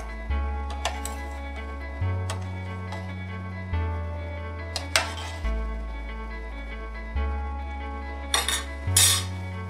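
Macaroni is stirred in a pot with a metal utensil, giving repeated scraping clinks against the pot in uneven bursts over a low steady background hum, close by.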